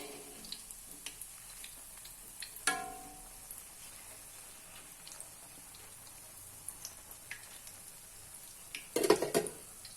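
Kremes batter frying in hot oil, a faint continuous crackle and sizzle close by, broken by a couple of brief louder clatters.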